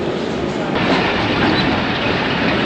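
The 101UP Subk Raftar train departs Lahore station on a foggy winter morning, giving a loud, steady rumble of rolling wheels and carriages that fills the whole stretch close by.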